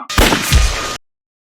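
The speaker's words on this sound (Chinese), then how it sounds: "开枪！" A war film's gunfire, from an ambush on a Japanese army convoy, lands as a loud, close burst of a couple of sharp blasts lasting under a second before abrupt silence.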